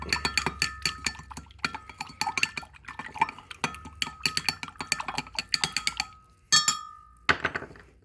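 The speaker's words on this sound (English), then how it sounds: "Pour some vinegar in there. That should be good, I think. And just gonna mix it up." Vinegar being mixed in a container for cleaning corrosion off Polaris Sportsman electrical terminals, heard as a rapid run of close, bright clinks and taps against the vessel, pausing briefly, then one sustained ringing scrape near the end.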